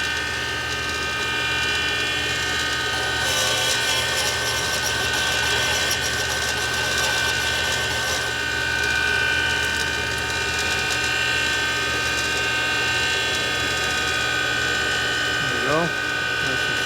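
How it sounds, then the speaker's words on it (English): A motor-driven grinder steadily takes a mark out of a part from a 1983 Harley-Davidson FLTC 80ci shovelhead engine in a rebuild: loud sustained whirring and rasping that shifts slightly in pitch as pressure changes, with a brief tonal sweep near the end. "Not sure what that is, so we'll grind it out."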